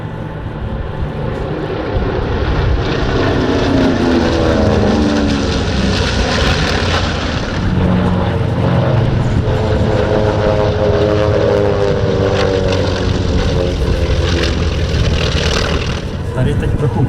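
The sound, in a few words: B-25 and T-28 warbird aircraft passing overhead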